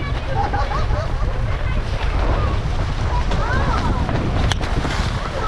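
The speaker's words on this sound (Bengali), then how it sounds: "ঝড় উঠে গেছে, ফর ফর করে ঝড় উঠে গেছে।" Strong storm wind batters a car camping spot at Sulaipat Dam in Odisha, a loud, constant roar buffeting the microphone throughout, with faint voices buried beneath it.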